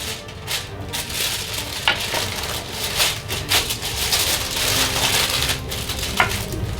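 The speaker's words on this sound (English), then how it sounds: "I get some aluminum foil and I wrap it up in aluminum foil" Aluminum foil being crinkled and folded around a stack of tortillas, close and dry, with bursts of crackling and sharp crisp crunches coming unevenly over a few seconds.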